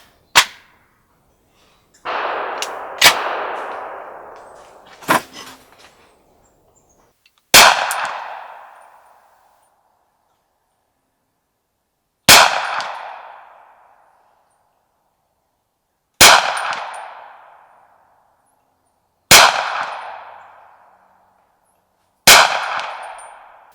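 Gunshots from a Hi-Point .45 carbine on a shooting range, about eight loud, sharp reports with ringing decay. They come close together at first, then space out at a steady pace of a few seconds each, with no talk.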